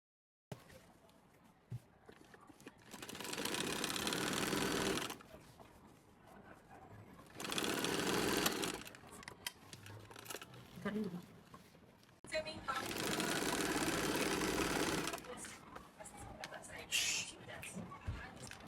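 A sewing machine stitches straight seams along the edges of throw pillow fabric, a steady whirring hum in three sustained runs of a few seconds each, with quiet pauses between them and some speech in the gaps.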